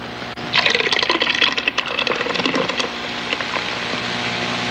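Beer is poured into a pan of simmering meat, a close splashing, bubbling rush for a couple of seconds that settles into a steady low simmering hiss, with no voices.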